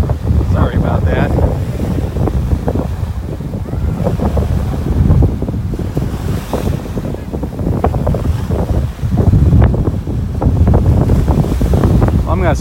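Strong wind buffets the microphone on Delnor-Wiggins beach in North Naples, Florida, a loud continuous roar with gusty surges and surf mixed in, and no clear talk.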